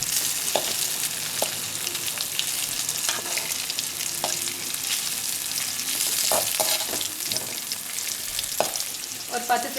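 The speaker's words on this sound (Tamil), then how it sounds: "இப்போ நம்ம பொரிக்கலாம்." Chicken leg pieces fry in hot oil with garlic and curry leaves, a loud steady close sizzle with crackling pops throughout and no voices.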